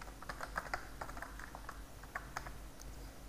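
Computer keyboard typing with rapid, irregular key clicks over a steady low background hum, fairly close, no voices present.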